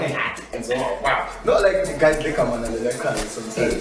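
A dog barks and yips close by in the middle of casual talk between men, its short calls mixing with and partly buried under the voices.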